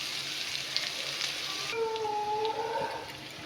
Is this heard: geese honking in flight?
no